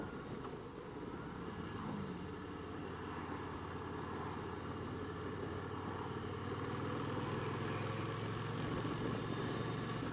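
A motorcycle engine idles steadily with a low, even rumble and faint background hiss, no talking, holding at a constant level.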